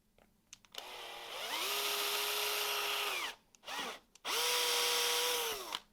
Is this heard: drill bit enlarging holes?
yes